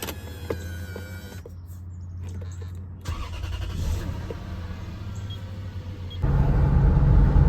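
A Toyota Celsior / Lexus LS400 pulling out onto the road, a low steady engine and road rumble heard from inside the cabin, with a power window whirring and a louder surge of road noise near the end.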